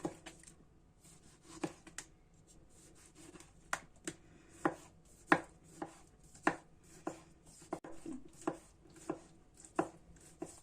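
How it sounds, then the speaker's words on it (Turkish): Tomatoes are chopped on a board for a roasted eggplant salad, a series of quiet, unevenly spaced knife strikes, each a distinct thud, over a faint background. "Son olarak domatesimi de doğruyorum."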